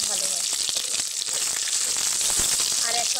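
River fish frying in hot oil for a Bengali fish curry, a steady bright sizzle with crackles throughout, close and loud.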